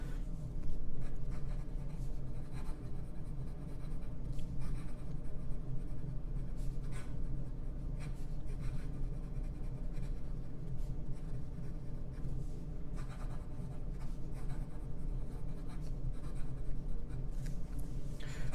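Fast continuous writing with a Waterman Kultur fountain pen on paper using an ink cartridge, a close, steady scratching of nib strokes over a low background hum.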